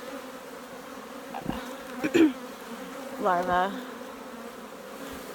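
Honeybees hum steadily around an open hive during a frame-by-frame inspection, a soft constant buzz with a few brief bumps and a short spoken word over it.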